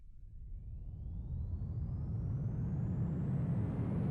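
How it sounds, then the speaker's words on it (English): Weakened aircraft engine in the flight game SimplePlanes, a steady low rumbling drone with a faint rising whine that gradually swells over several seconds. "You notice that the engine is significantly weaker."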